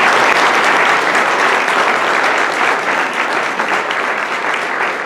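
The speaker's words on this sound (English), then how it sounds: "So if we can give them a round of applause" An audience at a school parent meeting gives the panelists a loud round of applause, a thick, continuous wash of many hands clapping close by that eases slightly toward the end.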